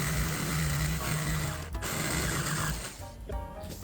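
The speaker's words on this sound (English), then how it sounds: "So right now we're just going to cut the shape, and we're using our jigsaw." A jigsaw cuts a wooden nosecone shape for a sharknose cyclekart body, a steady buzzing whine that runs continuously and loud for nearly the whole stretch, then drops off near the end.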